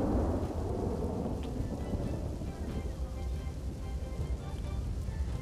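Torrential monsoon rain pours down in Nakhatrana, Kutch, a dense close hiss of drops layered over deep rolling thunder rumbling continuously underneath.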